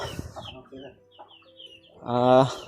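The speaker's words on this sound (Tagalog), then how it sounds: "Marami ka palang mga alagang manok dito lalo." Chickens cluck nearby in short broken calls, ending with a louder drawn-out squawk.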